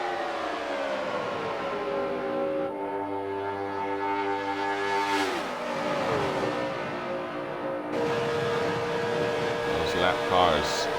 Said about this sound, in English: Got some cars coming out of pit road.